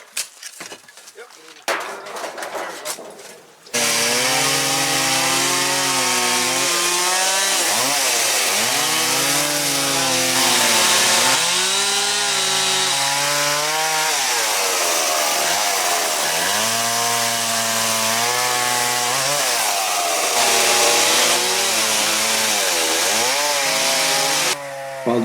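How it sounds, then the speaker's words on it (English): Chainsaws cut through old wooden porch supports at a cabin, a loud close engine whine that rises and falls in pitch as the bar bites, running almost continuously after a few seconds of quieter handling noise at the start. "While John and Craig were finishing up cutting off the old porch supports with the chainsaws"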